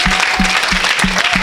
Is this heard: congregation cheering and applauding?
yes